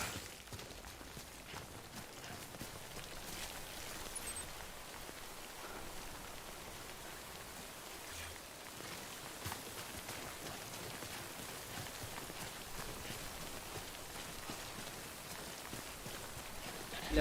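Timefall rain in the Death Stranding video game falls steadily, a soft continuous hiss of drops pattering on surfaces that holds even and fairly quiet from start to end.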